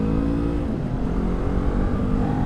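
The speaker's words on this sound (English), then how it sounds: "I can definitely hear the exhaust more on this bike because of the slip-on" Engine and exhaust note of a 2019 Yamaha R3 or Kawasaki Ninja 400 sport bike fitted with a slip-on exhaust, a loud, steady throaty drone while riding.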